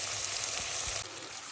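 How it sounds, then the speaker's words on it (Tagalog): Leftover roasted pork belly sizzles steadily in a hot pan as it is sautéed, a continuous close frying hiss that drops a little quieter near the end. "ginigisa ko muna siya."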